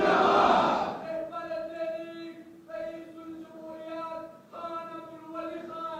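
A crowd at a political speech at Bacha Khan Markaz chants slogans, a loud burst of massed voices followed by repeated rhythmic call-and-response chanting that rises and falls.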